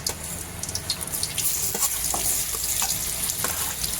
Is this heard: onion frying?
yes